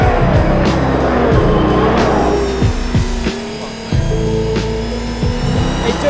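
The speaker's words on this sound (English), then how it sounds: "Driving out onto the roads of Bahrain in a Valkyrie." Aston Martin Valkyrie hypercar driving on roads in Bahrain, heard from inside a loud, noisy cabin: a droning engine with rising and falling revs and sharp gear-shift cuts, close and continuous.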